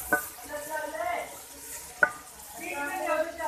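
Spoon scrapes and clinks against a pan as spices, turmeric and salt are stirred into a homemade chicken curry, with soft sizzling beneath a few sharp metallic taps.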